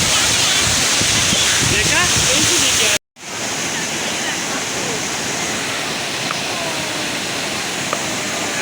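The Jaskol waterfall in Azad Kashmir roars with a loud, continuous rush of falling water that cuts out abruptly for a split second before resuming just as strongly.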